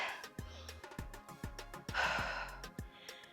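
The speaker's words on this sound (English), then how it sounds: "Slow the breathing to bring down the heart rate." Heavy, audible breaths from someone winded after a full-body workout, with gasps and sighs over a beat of rhythmic thumps in the background.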